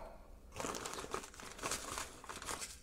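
Plastic packaging from a Tamron 10-24mm f/3.5-4.5 Di II VC HLD lens crinkles and rustles in a steady, close burst of handling that continues after a quiet start, with no talking.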